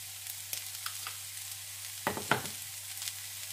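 Onions cooking in a pan with a spoonful of brown sugar, a soft steady sizzle with scattered faint crackles and a couple of louder scraping clatters near the middle.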